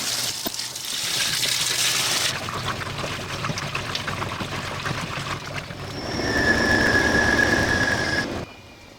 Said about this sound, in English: Despite its squeaks and creaks and other things, it still functions as a washing machine.